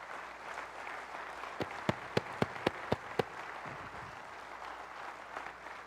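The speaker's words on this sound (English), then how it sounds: "Let's give him a big round of applause." A short run of about seven sharp, evenly spaced hand claps from an audience at a live session, near and crisp over a steady room hum, with no talking.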